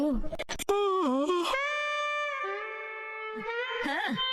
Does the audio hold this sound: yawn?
yes